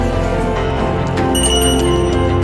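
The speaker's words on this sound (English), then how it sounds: "the familiar bell came again from the other end of the corridor." A bell rings in a corridor as a movie sound effect, sustained and resonant with shimmering bright overtones over a steady tonal hum, fairly loud, with no talking.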